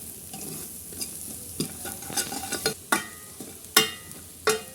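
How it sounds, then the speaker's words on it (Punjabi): Degi mirch spice masala roasts in hot oil for a milk curry, with a soft sizzle under repeated sharp scrapes and taps of a spoon stirring against the pan, close and uneven in rhythm. "ਹੁਣ ਆਪਾਂ ਇਹ ਵਾਲੇ ਮਸਾਲੇ ਨੂੰ ਥੋੜਾ ਚੰਗੀ ਤਰ੍ਹਾਂ ਭੁੰਨ ਲਈਏ"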